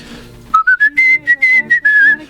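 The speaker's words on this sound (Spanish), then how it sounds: "Por eso gran parte de la canción es silbada." A whistled melody from a song played on the radio runs as a series of clear, loud, rising and sustained notes, pitched and phrased like a tune, with no talking.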